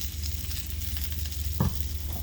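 Salmon with asparagus keeps sizzling in a cast iron sizzle skillet, a steady close hiss with a brief louder pop near the end, no talk.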